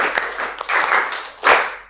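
A classroom of children claps together in a five-clap pattern, giving a few short, sharp bursts of group clapping close by.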